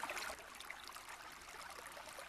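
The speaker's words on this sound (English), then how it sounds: "I'm going to turn the water sounds down" A played-back water sound effect of a flowing stream or trickle, heard as faint, steady, continuous burbling throughout, alone with no talking.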